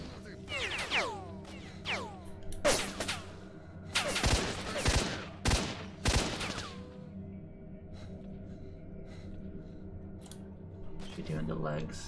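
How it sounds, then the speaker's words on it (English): Gunfire in the video game S.T.A.L.K.E.R. Shadow of Chernobyl, several loud sharp shot bursts clustered in the first half, then quieter ambience with faint movement. "They're shooting at me."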